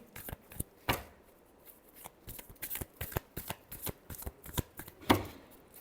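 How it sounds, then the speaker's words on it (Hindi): Tarot cards are shuffled close by in a series of crisp riffling slaps and flicks with an uneven rhythm, one sharper slap near the end. "Last shuffle."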